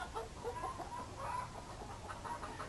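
Backyard chickens at an off-grid homestead cluck in a busy chorus of repeated, overlapping short calls. The birds are close and moderately loud over a low background hum, with no talking.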